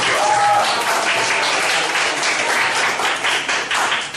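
Students in a vocational high school multimedia class break into loud, dense applause that holds steady for several seconds before tapering off.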